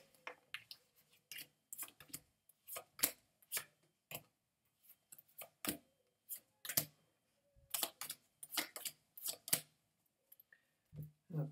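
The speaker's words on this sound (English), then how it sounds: "I'll shuffle them a bit more now" Tarot cards being shuffled by hand, a quiet series of quick riffling and snapping bursts in irregular rhythm, close up with faint room background.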